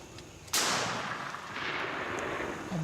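A single sharp shotgun blast during a spring turkey hunt outdoors, loud and near, followed by a long rolling echo that fades slowly.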